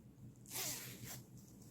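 A single quick zipper pull, a bright rasping zip lasting under a second, close and clear against a quiet background.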